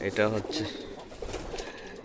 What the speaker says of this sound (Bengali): এটাও আপনার দুইটা বেবি বের করছে এই কবুতরটা